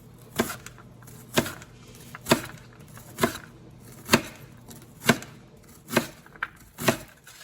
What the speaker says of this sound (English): Then you're going to just cut this way and it will make your little mince pieces.